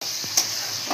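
Onions sizzle steadily in hot oil in a pan, a constant hiss with a couple of brief stirring scrapes, cooking for a crab masala.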